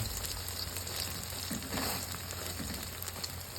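An omelette sizzles in hot pork lard, a continuous crackling fry with bursts of spattering, steady and close, with no one speaking.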